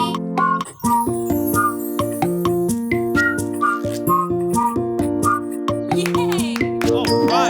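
Bright whistling carries the melody of a children's nursery rhyme song about autumn leaves, steady and loud over bouncy instrumental accompaniment with no singing.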